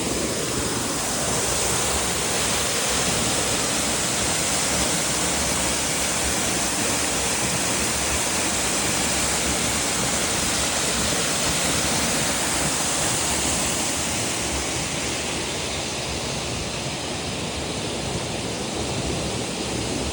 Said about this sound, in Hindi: ज़्यादा बड़ा वाटरफॉल नहीं है